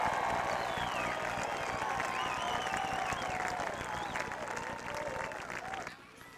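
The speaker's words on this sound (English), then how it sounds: "Let's have a real round of applause." A crowd at a point-to-point horse race, the Green Spring Valley meet, applauds the jockeys in a sustained, dense clatter of clapping under a voice, fading at the end.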